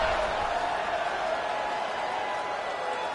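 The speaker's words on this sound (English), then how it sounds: "this crowd is buzzing after that last score" Stadium crowd in the NCAA 26 college football video game, a steady buzzing roar of many fans after a score, filling the background evenly under faint talk.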